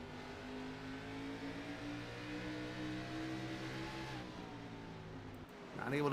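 NASCAR Xfinity Series race cars at Richmond give a steady, droning engine roar that holds for several seconds, then swells as a car comes closer at the end.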